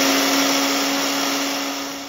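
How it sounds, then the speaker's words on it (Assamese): An electric mixer grinder whirs steadily as it grinds dry-roasted whole spices for mango pickle, a loud, continuous motor hum with a constant high whine throughout, no voices. "ভাজি লোৱা গোটা মছলাখিনি ঠাণ্ডা হ'ল সেয়েহে আমি মিক্সিত এতিয়া মাৰি লৈছোঁ"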